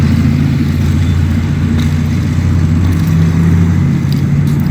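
A car engine hums with a steady low rumble, close and fairly loud, holding an even drone for several seconds without talk.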